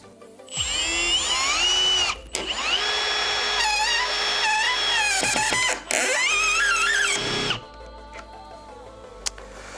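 A Milwaukee M18 cordless impact drill drives into a pine beam, its motor whining loudly and steadily with pitch shifts, cutting out briefly in the middle and stopping near the end.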